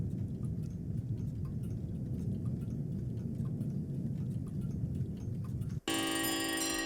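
A dense bed of many clocks ticking fills a song's intro, then cuts abruptly into a loud, bright clash of ringing chimes and alarm bells.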